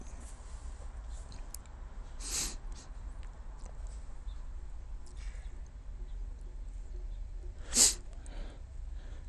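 Two short, sharp bursts, one softer and one louder near the end, like stifled sneezes against quiet room tone.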